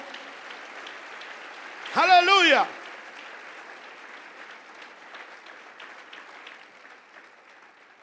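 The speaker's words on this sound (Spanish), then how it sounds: "Denle un fuerte aplauso al Señor en esta hora." A church congregation applauding during a Spanish-language sermon, a sustained wash of clapping from a crowd, fading gradually, with a loud shouted exclamation near the start.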